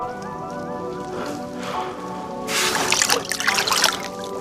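A large carp put back into the water after a catch gives a sudden burst of splashing and trickling water, set against a steady musical tone.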